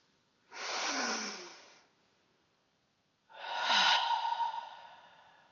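Two slow, soft breaths during a guided meditation and breathwork session, a drawn-out inhale followed by a pause and a longer exhale, close and quiet with no talking.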